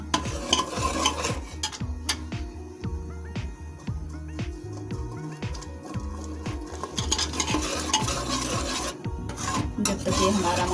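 Ground tomato masala for rajma fries in a pan while a spoon stirs it steadily, giving continuous scraping and rasping over a soft sizzle, close and fairly loud throughout.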